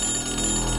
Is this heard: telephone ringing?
yes